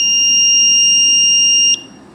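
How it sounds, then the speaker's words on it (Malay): A piezo buzzer on a GPS tracker gives one loud, steady, high-pitched beep lasting just under two seconds, then cuts off into quiet. "buzzer akan bunyi 2 saat."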